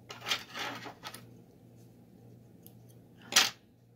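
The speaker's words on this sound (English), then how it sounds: "We're going to be cutting thread here just a bit." Scissors snip embroidery thread for a pre-stamped cross stitch kit, a few quick close cuts early on, then quiet, then one sharper snip near the end.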